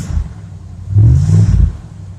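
A 1977 Chevrolet Coachmen Leprechaun motorhome's small-block V8 idles with a low rumble, then revs up briefly in a strong, close surge before settling back down.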